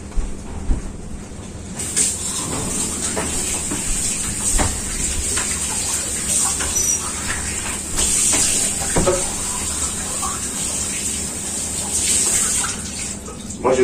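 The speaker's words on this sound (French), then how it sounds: "on lave le petit pot." A small jar is washed under a running tap, giving a steady close rush of water with clinks and splashes as it is handled, lasting the whole stretch without talk.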